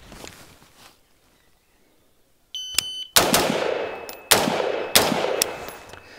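A pink MU-15 AR-15 rifle fires four sharp, loud gunshots at irregular intervals, each with a ringing tail, after a quieter stretch and a brief electronic beep.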